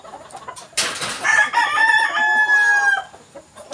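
Boston Roundhead gamefowl roosters crowing loudly nearby, one long drawn-out crow over a backdrop of scattered clucking from the flock.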